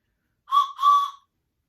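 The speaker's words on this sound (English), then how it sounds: "let's make sure everybody has their train whistle" A toy train whistle blown twice in quick succession at a children's train-themed story time, two short, bright, breathy toots close to the listener, alone with no talking.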